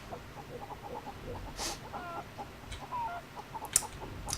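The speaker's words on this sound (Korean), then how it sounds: "불쌍한 닭" Chicken clucking inside the space-survival video game Breathedge, a few short, moderately loud clucks spread across a few seconds over a steady background hum, with no talking.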